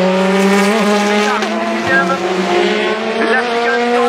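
At Le Mans, a race car brakes into the Ford chicane and accelerates out, its engine loud and close with rapid gear changes and rising revs, while an excited commentator talks over it.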